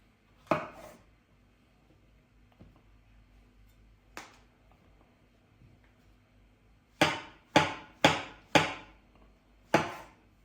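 A knife chops mushrooms on a cutting board: a few scattered strikes, then a quick run of five firm, close chops with pauses between.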